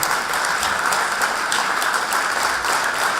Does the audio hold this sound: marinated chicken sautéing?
no